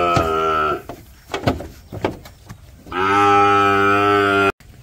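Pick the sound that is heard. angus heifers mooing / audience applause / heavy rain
angus heifers mooing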